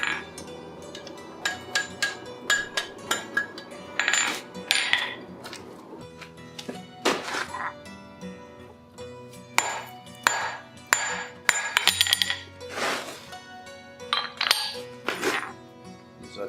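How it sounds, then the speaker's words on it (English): Ringing metallic hammer blows on a forged steel hook set on a hardy, in steady and irregular strikes with bright clinks and short pauses between runs. "So cut off hardy and cut this hook off."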